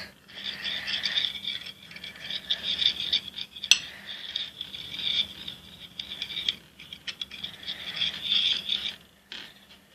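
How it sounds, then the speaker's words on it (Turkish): A spoon stirs a homemade cleaning mixture of flour, detergent and cooking oil in a container, giving steady close scraping and clinking rattles with irregular rhythm and one sharp click, without speech. "kaşığımızı alıyoruz ve güzelce karıştırıyoruz"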